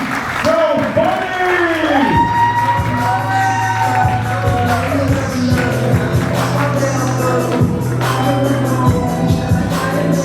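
Comedy festival crowd cheers, whoops and claps for a comedian coming to the stage, loud shouting and crowd noise mixed with voices and a steady hum underneath.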